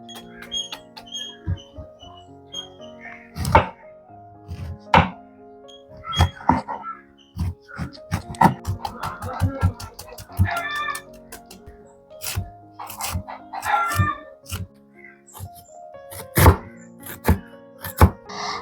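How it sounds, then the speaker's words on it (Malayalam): A knife chops banana flower finely on a board in a string of sharp, irregular thunks. The cuts come in quick bursts with short pauses between them, close by and with no talk. "ഇനി ഇത് നമുക്ക് ചെറുതായിട്ടൊന്ന് അരിഞ്ഞെടുക്കാം"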